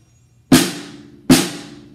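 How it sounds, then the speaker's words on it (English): A snare drum with the snares tightened on, struck twice a moment apart; each hit is a loud, close, crisp crack with a bright buzzing decay, played alone. "that's the classic snare drum sound."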